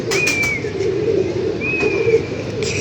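Pigeon cooing steadily in a low, continuous rolling murmur, near and fairly loud, with faint higher chirps from other birds passing over it.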